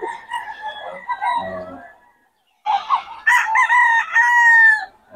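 A lemon sweater gamecock, a full stag, crows loudly and close by, with clucking and throaty fowl calls first, then a pause before a long, ringing cock-a-doodle-doo.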